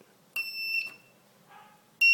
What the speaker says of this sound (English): this 555 timer that serves as a clock to produce this automatic buzzer circuit